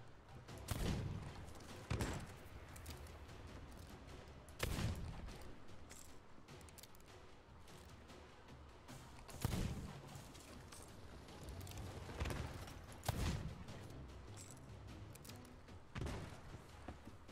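Gunshots in a pirate video game: a handful of dull, spaced shots and thumps, fairly faint, spread over quiet background ambience with no talk.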